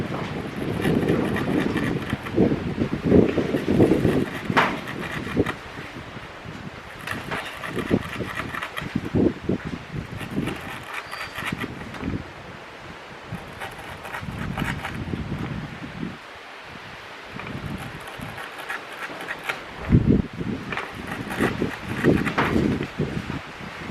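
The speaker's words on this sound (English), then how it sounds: "There's a lot of wind here" Wind gusts outdoors during a knife rope-cutting test, a rough rumbling buffet that rises and falls continuously across the whole stretch, with some rustling and no speech.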